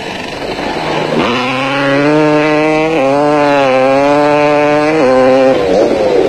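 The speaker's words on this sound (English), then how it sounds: "Powering his way through the Thaba Nchu Bundu on his Pelham Products KTM was John Hodgson" KTM off-road motorcycle in a 1991 desert endurance race in the Thaba Nchu bush of South Africa, a loud close engine revving high and dropping as the rider shifts gears again and again.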